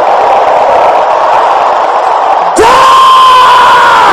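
A congregation at a midnight warfare prayer service shouts loudly together in a sustained roar, and then a single voice breaks in with a rising yell over the crowd.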